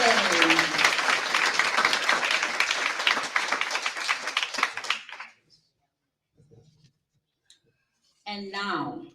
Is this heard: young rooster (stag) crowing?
no